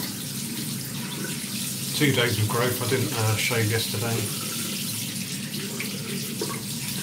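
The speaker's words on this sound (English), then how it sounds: "Excuse me while I run the water." Hot water runs steadily from a tap into a sink, a continuous hiss that carries on throughout while someone speaks briefly over it.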